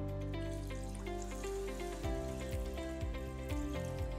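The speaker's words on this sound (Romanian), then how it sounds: "Să-i punem și apă." Water poured steadily into the transparent bowl of a Clarity soup maker, a continuous close trickle and splash that turns into a slightly bubbling, gurgling pour halfway through, with no talk.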